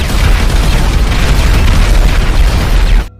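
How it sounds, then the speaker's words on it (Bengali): Sticky bombs detonating in a video game, a sustained loud roaring blast with rumbling low end and crackling debris lasting about three seconds before cutting off abruptly. "এবার স্টিকি বম গুলো ব্লাস্ট করে দেই আর স্পাইডারম্যান এখানেই শেষ।"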